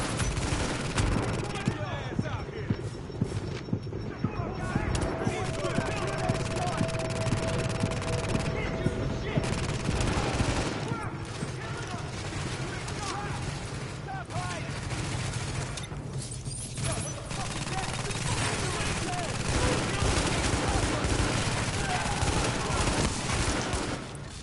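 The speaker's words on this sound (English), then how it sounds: "Party's taking heavy fire from the roof." Sustained gunfire from a rooftop gunner in The Division, dense rapid bursts and rattling shots filling the whole stretch at steady loudness, with voices talking over the firefight.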